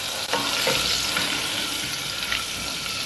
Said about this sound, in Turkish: Bol miktarda tereyağı atıyoruz.